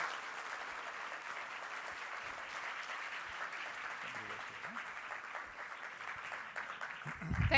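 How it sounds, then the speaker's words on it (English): Sustained audience applause at a public health forum event, a dense wash of clapping from a large crowd that holds steady throughout, with a brief voice near the end. "please give him another warm round of applause"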